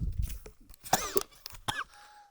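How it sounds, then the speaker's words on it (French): A person coughs a few times outdoors in a Canadian forest, with short harsh bursts and throat clearing up close, interspersed with brief vocal sounds. "j'ai la toux"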